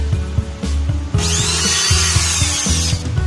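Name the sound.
power drill driving a screw into a wooden cabinet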